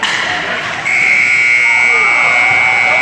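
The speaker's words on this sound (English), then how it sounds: "The buzzer went off right before the goal went in." A loud, steady electronic buzzer sounds at the end of a period in a high school ice hockey game, blaring continuously with arena noise beneath it.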